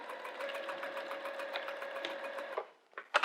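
A sewing machine runs steadily for about two and a half seconds while stitching a zipper pouch, a continuous whirring drone, then stops and leaves a few short clicks and handling noises.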